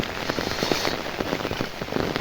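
Heavy rain pouring down over flooded farmland, a dense steady hiss of drops striking water and ground, with irregular louder patters scattered throughout and no voices.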